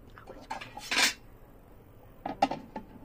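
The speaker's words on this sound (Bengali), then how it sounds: "ঢাকা চাপাটা দিয়ে দাও তো।" A metal lid is set onto a pot of hilsa fish biryani before it goes on dum: two short clattering clanks of metal on metal, close and clear, with a quiet pause between them.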